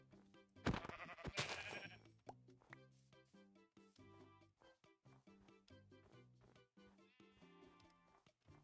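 Blocky Minecraft sheep bleat several times in quick succession, nasal and close, after a few sharp hit-like plops at the start, with light game music or effects around them.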